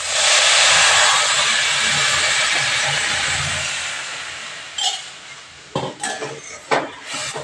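Milk poured into a hot wok hisses loudly at first and steadily fades over several seconds, followed by a few clanking knocks of a utensil against the pan.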